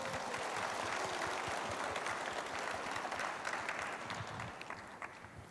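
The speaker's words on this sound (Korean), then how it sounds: "박수 한번 보내주십시오." Steady, dense applause from an indoor audience at a launch ceremony for a regional renewable-energy residents' cooperative in South Jeonnam, sustained throughout and easing slightly toward the end.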